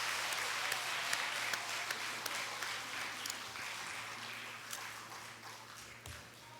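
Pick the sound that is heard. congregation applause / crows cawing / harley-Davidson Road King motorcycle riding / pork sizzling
congregation applause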